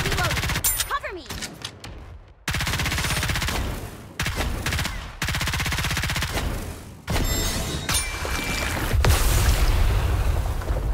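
Rapid gunfire rattles through a battle in the mobile shooter game Goddess of Victory Nikke, with loud dense bursts broken by short gaps, explosive booms and game voice lines over the shooting.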